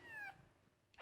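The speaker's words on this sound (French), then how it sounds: "Non, c'est le chat." A cat's meow plays as a sound clue in an animal-noise guessing game, a single short, faint call that fades quickly in a quiet setting.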